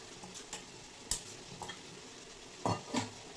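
Potatoes and eggplant, already soft, fry in a pan as slit green chilies and greens go in. Faint sizzling runs underneath, with a few sparse scrapes and clinks from stirring and no talk.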